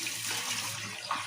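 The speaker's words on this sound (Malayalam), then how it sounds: "നമുക്ക് ഈ വെള്ളം ഊറ്റിക്കളയാം." Water from washed fish being poured off and drained away, a soft steady wash of running liquid that swells briefly near the end.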